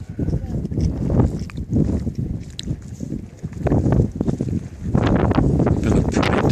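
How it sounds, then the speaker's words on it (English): Cold wind on a mountain hike gusts in bursts across the microphone as buffeting rumbles, with a voice talking over much of it. "Been a pretty damn windy day all day and cold as hell."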